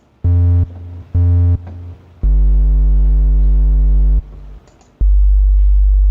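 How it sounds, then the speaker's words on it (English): Pure sine wave tones from the Thor synthesizer, with no overtones, held for a second or two each, switching on and off with short silences between, loud and clean. "There's our sine wave, no overtones."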